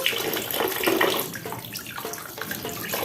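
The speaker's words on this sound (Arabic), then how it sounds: "تنضفيه كده تحت الحنفيه" Tap water runs steadily from a kitchen faucet while mackerel is cleaned by hand beneath it, a close, continuous splashing stream with small shifts as the fish moves under the flow.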